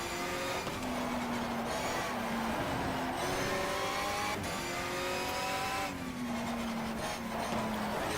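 Race car engine howling at full throttle in the racing game GTR 2, loud and continuous, with rising pitch sweeps through the gears and short dips at each shift, alone without talk.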